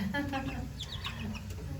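Brief, soft clucking from a nearby rooster over a low background hum, with a few short chirpy notes.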